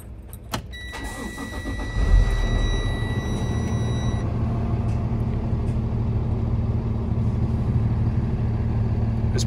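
The large diesel engine of a 2016 Freightliner M2 box truck cranks and catches, then settles into a loud, steady, rumbling idle that continues without talk.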